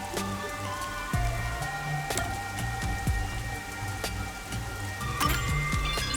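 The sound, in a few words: rain falling in a video game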